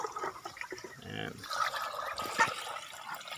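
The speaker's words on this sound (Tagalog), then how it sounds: "So lalagyan din natin ng tubig ito." Water poured into a container for Muscovy ducks on a backyard farm, a short gurgling splash under someone talking nearby.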